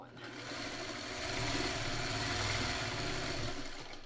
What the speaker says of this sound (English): I might as well sew another one through while I'm here